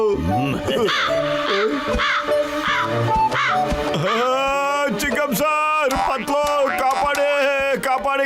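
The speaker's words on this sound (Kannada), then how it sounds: "ಕಾಗೆ ಕೂಗ್ತಾ ಇದೆ." A cartoon crow caws in a loud, harsh series of calls, heard over and between animated characters' voices and a busy soundtrack.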